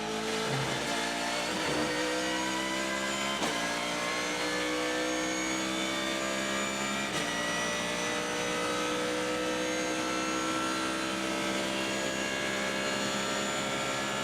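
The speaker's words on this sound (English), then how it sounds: "you think about those different exhaust notes" Onboard exhaust note of a BMW V8 race car at the Rolex 24 at Daytona, a loud sustained engine drone with rich harmonics and a few sharp gear-shift breaks, no talk.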